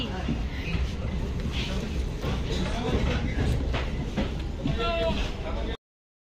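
A train rumbles steadily through a railway station, a continuous close rolling clatter with a squeal near the end, while people talk nearby.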